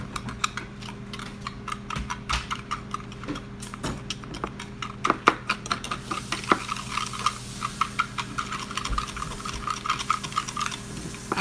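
Chili taco salad ingredients are mixed in a pan, with repeated sharp clicks and scrapes from a utensil against the pan that come in irregular bursts, fairly faint and close, without talking.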